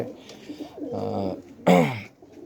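Pigeons coo nearby in short throaty bursts, two separate calls with a louder second one, against a quiet background.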